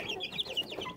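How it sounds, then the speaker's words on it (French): A Brahma Splash chick with an eye infection gives a quick run of thin, high peeps and soft cheeps, close and fairly quiet, packed into about a second. "C'est un poussin Brahma Splash."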